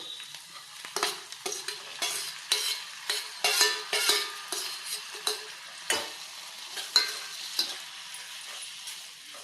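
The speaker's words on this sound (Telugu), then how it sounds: "ఆనియన్ అయితే వేగిపోయాయండి మరీ ఎక్కువ వేగనివ్వకూడదు మగ్గితే చాలు టమాటాలు వేసేసుకుందాం" Onions fry in a pan for a meal maker egg curry as a spoon stirs them in steady, rhythmic scraping strokes over a soft sizzle, with tomatoes going in.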